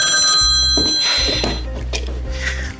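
A telephone ringing loudly and close, a bright repeated electronic ring in bursts with brief pauses and a low hum beneath.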